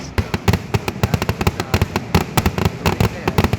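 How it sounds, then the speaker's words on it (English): A fireworks show in Boonton, New Jersey crackles with a rapid, irregular volley of sharp bangs and pops, loud and close, with no speech over it. "I know there's fireworks going off"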